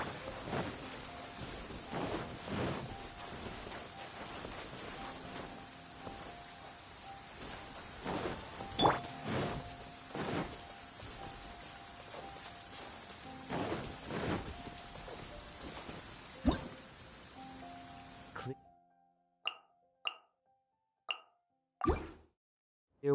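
A heavy downpour falls in a PS4 video game, a steady hiss of rain with scattered louder drops and splashes. It stops abruptly near the end, leaving only a few isolated plops in silence.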